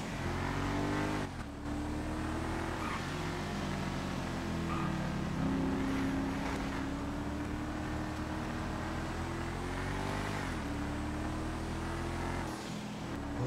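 A car engine drones steadily and revs as it drives in the video game GTA on a FiveM roleplay server, with rising and falling pitch and a brief dip, loud and continuous throughout without talking.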